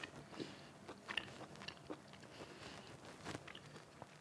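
Chewing a forkful of savory Dutch pancake with mushroom, soft wet mastication with a few crunchy bites close to the mouth, quiet and irregular with no talking.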